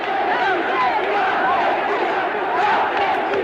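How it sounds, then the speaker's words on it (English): Argentine crowds in the streets of Buenos Aires cheer and roar in a dense, continuous wall of voices, with swelling shouts rising and falling throughout, in old archival footage. "When news of the invasion reached Buenos Aires, the crowds went wild."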